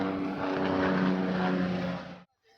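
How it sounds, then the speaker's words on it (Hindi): A helicopter on the shuttle service at Kedarnath in the mountains, its steady engine and rotor drone loud and close for about two seconds before cutting off abruptly into near silence. "ये हेलीकॉप्टर सेवा शुरू हो गई यहाँ पे।"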